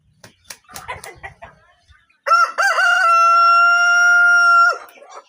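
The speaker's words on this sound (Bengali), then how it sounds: "Colombian original" An adult Colombian Bahama rooster clucks in a few short, broken calls, then lets out one long, loud crow that rises, holds, and cuts off, heard close up.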